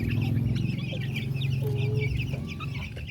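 Young chicks cluck and peep busily while eating wet wheat feed, a dense continuous flock chatter close by with scattered higher calls and no talking.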